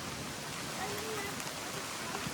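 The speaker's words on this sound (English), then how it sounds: "The rain." Heavy rain pours steadily during a tornado storm, a dense broadband hiss with no pauses, close and fairly loud, with faint voices beneath it.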